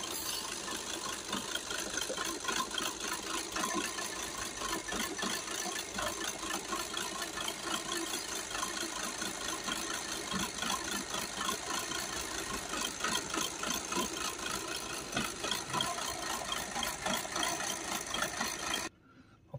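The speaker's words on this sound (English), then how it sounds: "Now with the engine running, we're gonna pump the rest in." Skoda Octavia 2.0 TDI diesel engine idling during particle filter cleaning, a steady, fairly loud chattering hum with a faint rattle that holds evenly for nearly twenty seconds before cutting off abruptly.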